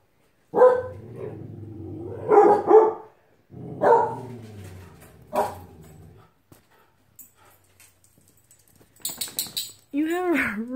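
A dog growls in low, rumbling bursts, then lets out a few sharp high yips and a rising whine toward the end.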